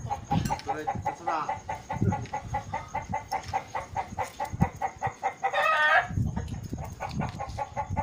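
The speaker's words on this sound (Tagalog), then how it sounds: "Igay na mga manok." Chickens cluck repeatedly nearby in a busy farmyard chorus, with a rooster-like call rising briefly amid the steady, overlapping bird sounds.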